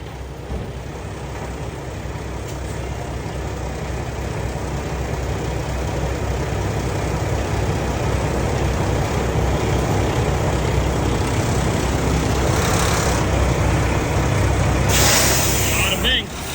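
A truck engine rumbles steadily at close range as it drives up onto wheel blocks in a shop, the low drone slowly swelling with a faint hiss near the end.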